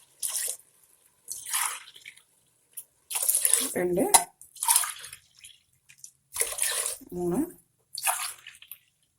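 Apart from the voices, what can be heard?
four cups of coconut milk poured into a pot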